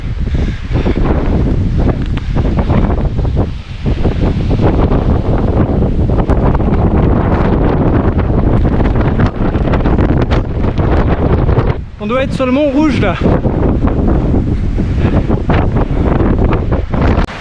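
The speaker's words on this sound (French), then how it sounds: "Ah, le vent, c'était un truc de malade là." Strong, constant wind roars and buffets the microphone on an exposed mountain trail section during a trail race, continuing loudly throughout while someone speaks briefly over it.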